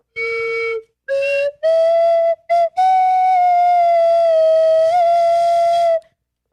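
A slide whistle plays the wedding tune Here Comes the Bride in sustained, sliding notes with brief gaps between phrases, clear and close with no talking.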